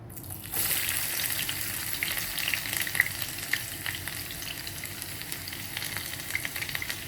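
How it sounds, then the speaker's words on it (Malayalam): Onions frying in a spoonful of coconut oil for a Kerala mussel and mango curry, a steady dense sizzle that bursts in suddenly and stays loud, with faint crackles and no talking. "ഒരു ടേബിൾ സ്പൂൺ വെളിച്ചെണ്ണ ഒഴിച്ച് ഉള്ളി ചേർത്ത് കൊടുക്കുക"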